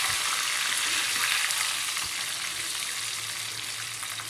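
Plantain slices for chips fry in hot oil with a steady, dense sizzle that runs throughout at even loudness, with no one speaking.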